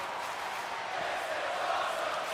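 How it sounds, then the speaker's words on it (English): A steady, distant-sounding arena crowd roars and chants through a WWE 2K23 wrestling video game match between Seth Rollins and Johnny Gargano, a continuous wash of voices without clear breaks. "The crowd chanting, this is awesome"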